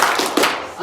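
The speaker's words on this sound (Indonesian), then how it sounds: "Tepuk dua." An audience at a classroom session run by prospective teachers claps on cue, two quick bright bursts of hand claps close together, with faint voices around them.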